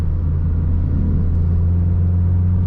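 A car engine in third gear holds a steady low rumble at around 3000 RPM, heard from inside the cabin as a constant, loud drone.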